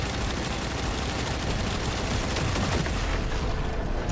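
Sustained, dense gunfire from Warframe's battle fills the whole stretch, continuous and loud with a steady rumble beneath, like many weapons firing at once with no pause.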